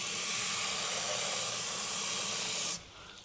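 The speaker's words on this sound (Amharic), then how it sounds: "ውሃ እንጨምርበታለን።" Water poured onto potatoes in a hot iron pot gives a loud, steady hissing burst of steam for nearly three seconds, then drops to a softer simmering hiss.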